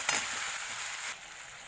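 Water goes into spiced masala frying with salt and turmeric in a pan for a potato and cauliflower fish curry, and it hisses in a loud, steady sizzle that eases slightly near the end.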